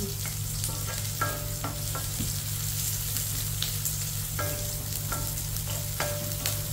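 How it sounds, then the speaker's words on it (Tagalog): Onion and garlic sizzle steadily in a hot pan, with a constant close crackle of frying broken by several sharp spatula clicks and stirring scrapes. "ilagay ko na ang sibuyas. Susunod ko ay bawang"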